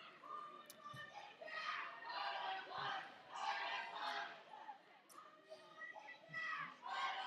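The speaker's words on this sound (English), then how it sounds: "Pittsburgh has a nice little cheer going on here" A junior roller derby team's crowd chants and cheers in a championship venue, rhythmic bursts of voices heard faintly and at a distance.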